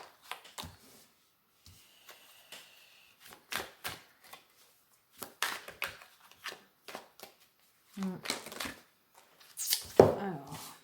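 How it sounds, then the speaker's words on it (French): Tarot cards shuffled and drawn by hand in short, soft bursts of riffling and flicking, separated by pauses, close and quiet with brief sounds of cards being set down. "je vais tirer d'autres cartes"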